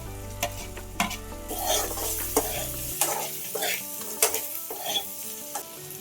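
Oil-fried dried fish stirred into sizzling onions and green chillies for a tamarind-leaf dried fish curry, with a constant frying hiss, metal spoon scrapes and clinks against the pan, and a low hum early on.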